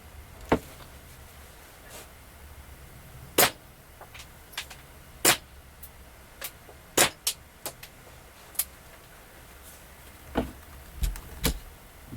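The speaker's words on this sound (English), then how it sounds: "what you're hearing is the impact of the target, which is about 3 to 4 meters away" Sharp, irregular snaps of airsoft pellets striking a target 3 to 4 meters away, about a dozen short cracks over quiet background.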